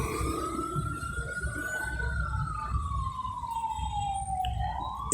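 A siren wails steadily, its tone rising slowly then falling as it passes, over a constant low rumble of traffic with no talking.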